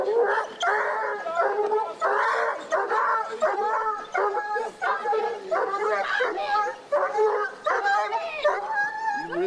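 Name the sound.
dog barking and whimpering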